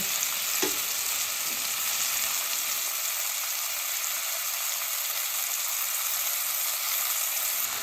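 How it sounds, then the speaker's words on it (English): Chicken pieces fry in a pan for chicken marsala with a loud, steady sizzle close by. A couple of brief clinks sound early on as the pieces are turned. "We'll turn these over, and we're going to let these cook a little bit longer."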